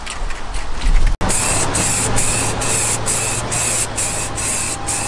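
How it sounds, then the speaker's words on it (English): A spray gun hisses steadily while painting a stanced Toyota MR2 car, with a continuous close airy spray broken by one brief pause and soft rhythmic surges as the gun sweeps back and forth. "So I'm spraying a lot further than I usually spray"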